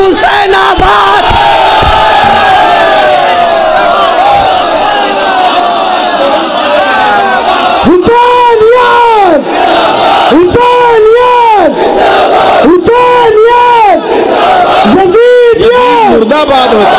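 A large crowd at a Shia religious gathering marking Karbala shouts slogans in unison, loud and close, with a leader's call and massed voices answering in repeated rhythmic waves.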